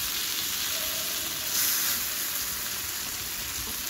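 Eggplant slices frying in hot oil for a Bengali tengra fish curry, giving a steady, dense sizzle throughout with a brief louder swell midway and no voices.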